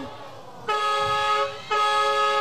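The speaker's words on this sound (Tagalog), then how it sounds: "May busina yung aeroplano." A horn sounds twice, a loud steady honk lasting about a second, a short pause, then a second honk.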